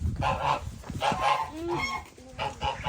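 Geese honk close by in a few loud, nasal calls spaced through the moment, with softer fowl murmurs underneath and no voices.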